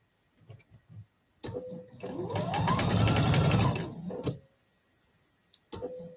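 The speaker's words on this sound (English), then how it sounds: "Sewing slowly. Because my fabric wants to push, because I have that extra seam allowance, I will take a little stitch or two" A sewing machine stitches a quilt block seam at a slow pace, a steady whirring run of about three seconds with a motor pitch that rises and falls, bracketed by brief handling clicks and taps, close and clear.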